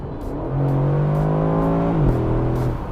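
An Aston Martin DB11 Volante's engine pulls hard on mountain roads in the south of France. Its droning note climbs steadily, dips briefly at a gear change and then keeps rising, loud and close.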